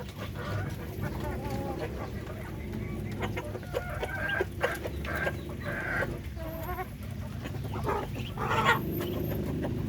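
Newly hatched chicks and ducklings on a small farm, with clucking and peeping calls scattered continuously over a steady low background hum, moderately close and busy.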